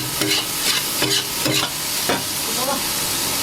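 Yellow bolete mushrooms stir-fried with green pepper, Sichuan pepper powder and salt in a wok, loud close sizzling broken by several sharp scraping strokes of the spatula, with no one talking.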